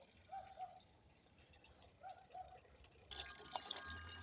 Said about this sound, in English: Here's the fountain I always have running for the birds.